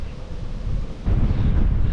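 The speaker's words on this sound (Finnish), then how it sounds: "Kuuluu varmaan sinne kotikatsomoihin, että tuulee aika kovasti." Strong wind buffets the microphone on a bicycle tour along a rural road, a continuous low roar that swells louder about halfway through and stays heavy to the end, with no voices.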